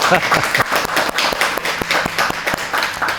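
A seminar audience claps briefly in a lecture hall, a scattered burst of close, mid-loud hand claps with some laughter and talk mixed in.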